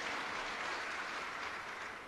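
Dense, steady clapping from a large crowd at an outdoor political campaign rally in Maharashtra, sustained and loud throughout with no break.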